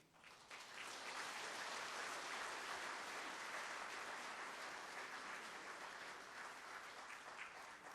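A church congregation applauds children at the front of a service, a dense, steady burst of clapping that swells quickly and holds loud for several seconds.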